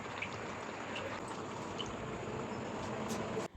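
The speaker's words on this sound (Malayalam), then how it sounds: "കുറച്ച് വെള്ളം ഒഴിച്ചിട്ട്" Water pours steadily into a clay pot of pumpkin curry with a continuous rushing splash for several seconds, then stops abruptly.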